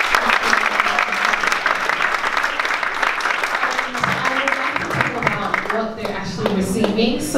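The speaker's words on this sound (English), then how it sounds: "Can we give them one more round of applause?" Audience applause rolls through a women's summit hall, dense clapping that thins toward the end as voices and scattered claps come through.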